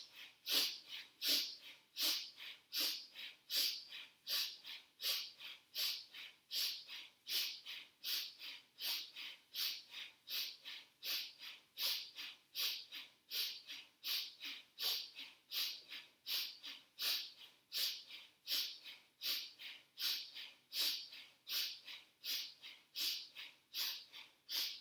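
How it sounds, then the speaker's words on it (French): Forceful rhythmic breathing during a Kundalini yoga kriya for the throat chakra, with steady loud inhales and exhales repeating about once per second for the whole stretch, close up with no talking. "Traversez la posture avec votre respiration puissante sonore."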